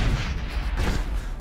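A grenade blast in the video game Mass Effect, a heavy rumbling boom that rolls on for more than a second at close range, with no talk over it.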